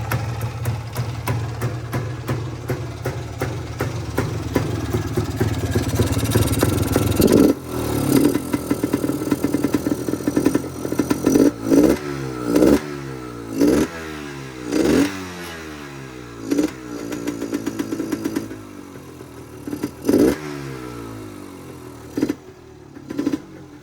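A Yamaha DT250 motorcycle, pulled from a box trailer in the woods, runs with a steady mid-pitched engine drone for several seconds, then gives a series of sharp throttle blips that rise and fall, close and loud, with no talking.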